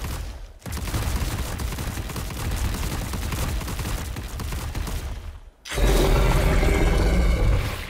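A giant spider's web attack in ARK Survival Evolved lets out a loud, harsh, sustained gushing blast that breaks off briefly, then surges again even heavier and deeper, with no talk over it.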